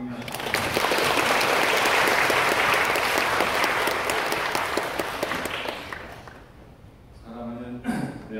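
Church congregation applauding at a children's department dedication service, a loud sustained wash of clapping from many hands that gradually fades, followed by a brief voice at the end.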